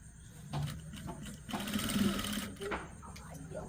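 A domestic sewing machine stitches a party frock, its whirring motor rising and falling in short runs, close by and moderately loud, with people talking over it.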